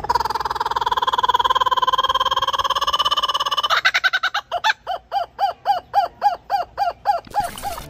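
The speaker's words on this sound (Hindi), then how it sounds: "कूकाबूरा ऑस्ट्रेलिया का एक अनोखा पक्षी है जिसे उसकी जोरदार और हंसने जैसी आवाज़ के लिए जाना जाता है।" A kookaburra gives its loud laughing call, starting with a rising, continuous chortling trill and breaking into a rapid run of about a dozen hooting cackles, close and alone without any voices.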